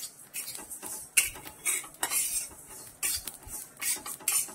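Kala masala spices being dry-roasted and stirred in a pan without oil, giving a steady run of scraping, clinking utensil strokes against the metal, fairly close and moderately loud, with no talk.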